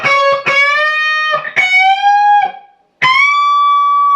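An electric guitar lead, played in 12th position, rings out with string bends, hammer-ons, pull-offs and a short chromatic run, bright sustained notes loud and alone with a brief pause before a final held note.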